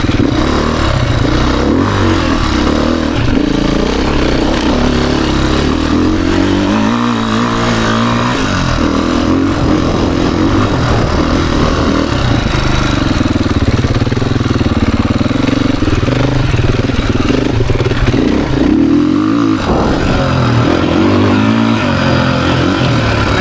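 A 2023 Beta Xtrainer dirt bike's engine runs hard on a tight trail, droning loud and close throughout as it revs and accelerates, with clattering and wind buffeting layered over the steady roar.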